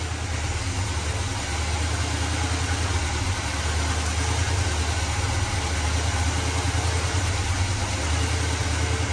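The engine of a 1981 GMC Sierra parts truck that sat for years idles steadily, a constant loud rumble with a faint buzzing vibration and no break throughout.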